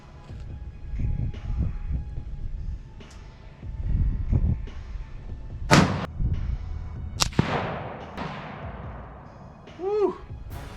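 A rifle shot with a faulty primer cracks once outdoors in a light breeze. It is a sharp, odd-sounding report with a ringing tail, preceded by a few softer distant shots, and a man exclaims afterward.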